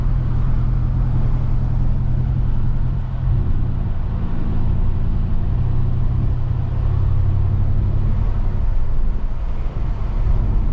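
A Ram 1500 pickup with a 5.7 Hemi V8 and Borla S-Type catback exhaust cruises at 35 in eco mode, giving a steady, loud, low exhaust drone and road rumble throughout with no variation.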